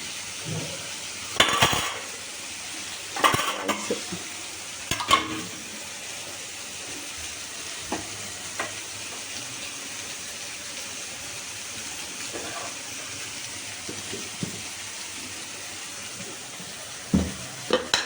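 Ginger garlic paste sautés in a pan for prawn varuval, a low steady sizzle broken by occasional sharp clinks and scrapes of a spatula, with a cluster of stirring knocks near the start.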